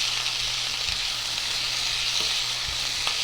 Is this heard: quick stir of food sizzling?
yes